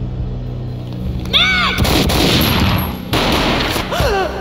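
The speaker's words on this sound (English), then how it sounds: "A gunshot boomed and she fell down in slow motion" A booming gunshot from the video game Max Payne, a heavy blast that rolls into a long echoing rumble, with scattered bursts following and brief whistling, sweeping tones around it.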